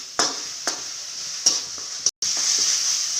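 Ground raw coconut masala fries in oil for a whole masoor curry, with a steady close sizzle and hiss and a few soft scraping stirs breaking through.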